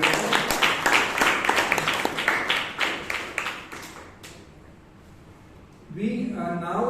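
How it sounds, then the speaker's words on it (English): A round of applause at a Bangalore Toastmasters meeting for a speaker and an evaluator: scattered clapping from a small room audience for about four seconds, dying away into quiet before a voice starts talking. "a big round of applause to both the speaker as well as the evaluator"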